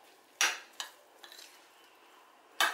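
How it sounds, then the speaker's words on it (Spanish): A spoon mixes egg yolks, apple, lettuce, crab and prawns into a filling in a bowl: a few close, sharp scraping strokes separated by quieter stirring, with no talking. "Lo removemos todo bien,"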